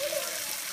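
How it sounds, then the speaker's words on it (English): A canyon waterfall splashes in a steady, broad rush of falling water close by, with no voices over it. "Look at this sweet waterfall we found."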